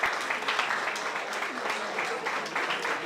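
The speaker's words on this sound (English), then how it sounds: "Shall we give an applause?" Audience applause at a masters event honouring an international guest, a steady dense clapping wash lasting about three seconds with a few voices mixed in.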